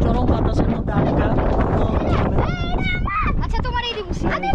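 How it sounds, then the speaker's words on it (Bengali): Strong, gusty wind buffets the microphone at the Arial Beel wetland in Shreenagar, Munshiganj, a continuous rough rumble with water sounds and a voice speaking over it. "চরম বাতাসের মধ্যে আটকা"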